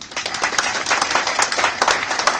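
A room of attendees at an NLP coaching training session claps together, producing a brisk, continuous patter of hand claps at close range for a couple of seconds.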